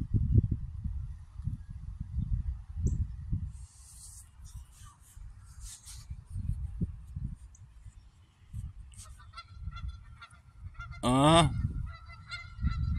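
Geese honk repeatedly at close range, adults with goslings, irregular loud calls with quieter gaps, and a sharper burst near the end.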